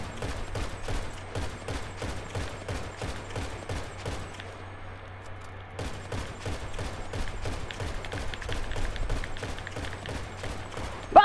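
Rapid video game gunfire rattles in long, evenly spaced bursts, with a brief lull in the middle before the firing resumes, moderately loud and without talking.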